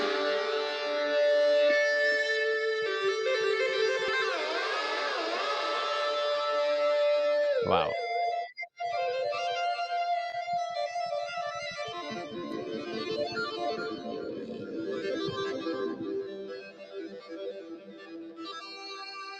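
A synthesized string-model instrument on GeoShred plays sustained, bowed-like tones with sliding pitch bends and vibrato, rich and resonant, broken midway by a sharp glitch before a softer, textured passage; a brief exclamation is heard.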